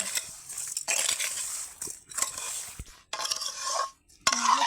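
A spoon stirs ash gourd murabba with melting sugar in a pan, making intermittent scraping and clinking strokes with short silent gaps between them. The sounds are close and fairly loud, and no one talks.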